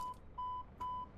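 Cockpit beeps in the Airbus ACJ320neo corporate jet of Microsoft Flight Simulator: a clean electronic tone sounding three times in an even rhythm, clear and alone.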